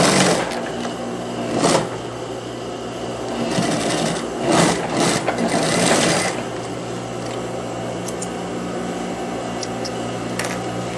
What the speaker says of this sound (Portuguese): E aqui eu vou fechar a lateral, dobrando assim e passando a costura.